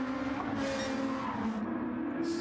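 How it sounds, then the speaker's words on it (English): Race cars, including a Ferrari 296 and GR2 class machines, lapping the Nürburgring GP circuit, engines droning steadily with pitch shifts as they downshift through corners, continuous and moderately near. "Great noise of the cars downshift through the corners."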